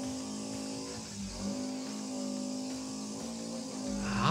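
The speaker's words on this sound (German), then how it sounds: "Du hörst immer, dass die Drehzahl richtig schön oben knattert." A drift race car engine revs high at a German drifting event, a steady, loud, buzzing roar held at high rpm for about four seconds and swelling toward the end, with no talk over it.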